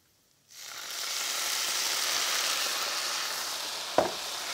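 After a brief silence, soy sauce hits a hot frying pan and erupts into a steady, loud sizzle that holds evenly, with a sharp clink of a utensil near the end.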